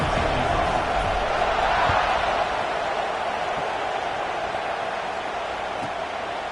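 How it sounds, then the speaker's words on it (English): A stadium crowd buzzes at an LSU vs Alabama college football game, a dense, steady roar of many distant voices that fades slightly toward the end. "this crowd is buzzing after that last score"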